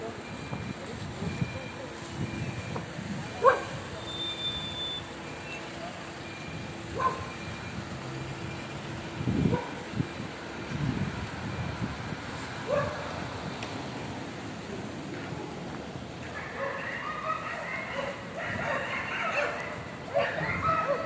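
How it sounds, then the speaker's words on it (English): Several dogs barking outdoors at a street protest, the barks scattered and fairly distant, mixed with passing traffic and murmuring voices over about twenty seconds. "Dogs."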